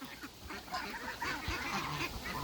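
Ducklings quack and peep at feeding time, a busy cluster of small overlapping calls running steadily and fairly close throughout.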